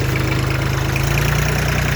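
A tractor fitted with an M385 engine runs steadily at a close, loud idle, with a rapid even low thumping and no voices over it.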